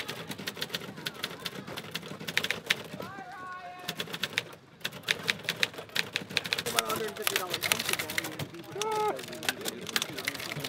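Several typewriters hammering away at a speed typing contest, a steady flurry of key strikes with brief carriage noises, while people talk in the background.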